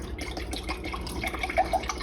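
Milk pours into a measuring cup in a kitchen while making Portuguese custard tarts, a short splashing, gurgling stream with a few drip-like plops near the end.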